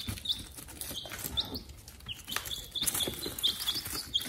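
Chickens on a farm giving scattered soft clucks and high, quick chirps, fairly faint against a quiet background.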